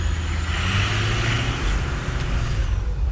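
A supercharged Ford F250 Lariat 6.0 diesel pickup engine gives a loud, steady drone with a high whining tone on top, close by and constant throughout.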